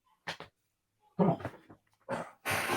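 Dog making several short barks and whimpering yips in brief separate bursts with quiet gaps between, fairly close.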